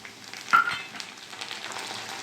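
Ginger-garlic paste hitting hot oil for a chicken curry gives a short, steady sizzle with one sharper burst of spatter early on, close and alone.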